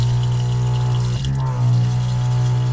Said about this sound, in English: Forgive my pump noise.